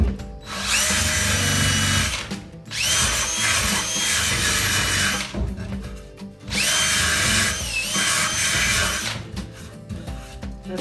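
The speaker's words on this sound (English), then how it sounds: "anywhere we need to take down an edge, I'm just going to use this flap wheel." Flap wheel on a power tool sanding down the edges of wooden boards for a rustic farmhouse blanket ladder: loud whirring abrasive bursts, three long passes separated by short pauses, close and alone.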